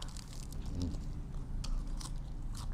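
Crunchy sliced lemongrass eaten with a spicy apple snail salad gives close, irregular crisp bites and chewing crunches, with faint background noise.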